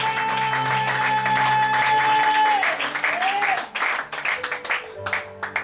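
A church congregation applauds and cheers in a steady, dense wash of clapping lasting several seconds, with a sustained organ or keyboard tone underneath and scattered voices, thinning toward the end.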